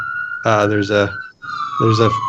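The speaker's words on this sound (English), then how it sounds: "there's an ambulance here" Ambulance siren with a steady high wail sustained throughout, loud and close, partly masked by nearby harmonic tones that swell in two bursts.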